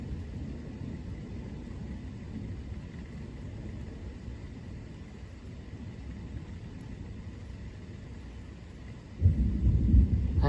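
A severe thunderstorm with nonstop lightning rumbles steadily and faintly, then a louder, closer crack of thunder bursts in near the end.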